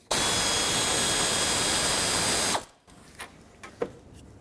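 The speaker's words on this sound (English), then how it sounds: "I'm going to take out this 8mm bolt so I can kind of maneuver the shroud out of the way" A power tool whirs loud and steady for a few seconds while an 8mm bolt comes out of the fan shroud on a 2008–2010 Ford F-250 with the 6.4L diesel. It cuts off abruptly, followed by a few faint clicks and clunks.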